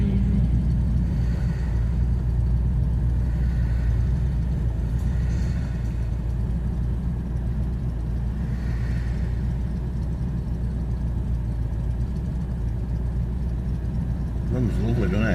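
A Lincoln Continental Mk III classic American car drives through midday traffic, its engine giving a low, steady rumble from inside the cabin while someone talks over it.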